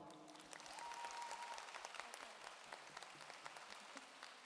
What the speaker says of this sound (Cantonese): 俾啲掌聲自己啊